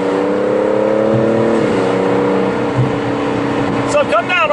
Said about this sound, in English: I wanted to see what the noise was like with the roof down at cruising speed